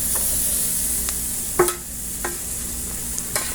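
Spicy chicken basted with garlicky sauce sizzles steadily on a grill, a continuous close hiss broken by a few soft clicks and scrapes of the basting brush.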